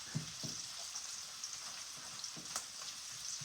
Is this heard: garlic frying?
yes